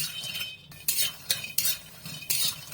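Bori (lentil dumplings) being dry-roasted in a pan before any oil goes in, with a few sharp scraping and clattering stir strokes against the pan over a soft background hiss.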